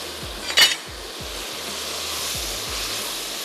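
Sliced carrot and tomato with tomato paste frying in a pot, with a steady low sizzle, one sharp utensil clink near the start, and faint repeated stirring knocks, close up, no voices.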